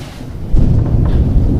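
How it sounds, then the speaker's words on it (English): A low, deep rumble of thunder rolls in and swells, heavy and distant, with no voices over it. "Ooh, that storm is rolling out there."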